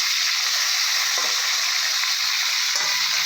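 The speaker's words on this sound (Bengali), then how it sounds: "একবারে ভেজে নিই, 4 পিস 3 পিস কাঁকা আর 1 পিস মাথা।" Fish pieces and a fish head frying in hot oil give a loud, steady, dense sizzle that runs unbroken throughout, with no voices.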